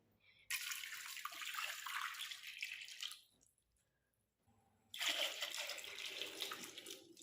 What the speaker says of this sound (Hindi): अब इसमें हम उबलने भर का पानी डालेंगे।